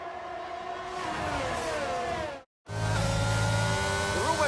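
Formula 1 cars on the formation lap in F1 22, a loud sustained engine whine with shifting revs, cutting out briefly and returning as a multi-car drone.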